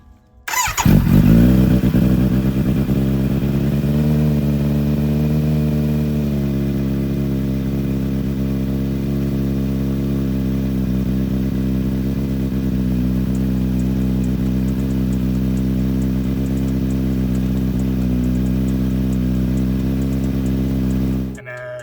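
A Kawasaki Z900 motorcycle engine fires up just after an oil change and settles into a steady, close idle. Its pitch wavers briefly in the first seconds before holding an even, continuous rumble until it cuts out at the end.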